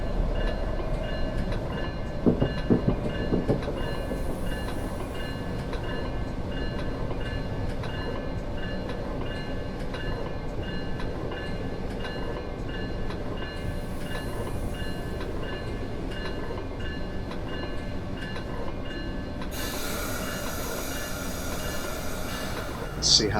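MARC Penn Line Train 544 in Train Simulator 2021 rolls on steadily under a constant rumble and rail hum with faint periodic hissing, loud and continuous throughout.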